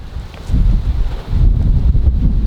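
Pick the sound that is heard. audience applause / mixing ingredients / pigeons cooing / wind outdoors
wind outdoors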